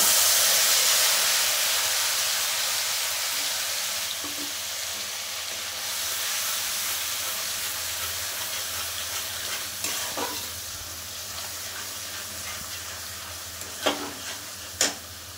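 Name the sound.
spice paste (masala) added to pan and frying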